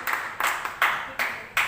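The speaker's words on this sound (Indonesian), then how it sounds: "Oh, itu tepuk tangan malu-malu." A church congregation at an evening worship service gives a few shy, scattered bursts of hand clapping, about five short soft rounds in an even rhythm, each dying away quickly.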